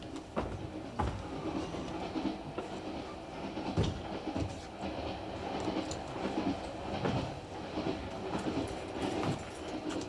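Train running on rails heard from inside a carriage, a continuous quiet rumble with irregular clickety-clack knocks and rattles, no voices.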